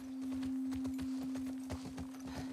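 Horse hooves clip-clopping at a steady walking pace in The Last of Us Part II, close, rhythmic and quiet over a constant low electronic hum.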